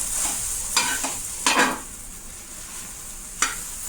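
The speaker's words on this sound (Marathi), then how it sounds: "तेलामध्ये भेंडी पूर्ण भाजून घ्यायचं, नाहीतर भेंडी कच्चा लागतो." Okra frying in oil in a pan, a constant close sizzle with a few sharp spatula scrapes and knocks against the pan, no talking.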